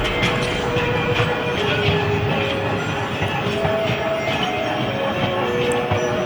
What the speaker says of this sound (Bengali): চলে গেল ট্রেনটা।